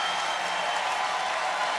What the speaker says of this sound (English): Crowd getting a little bit louder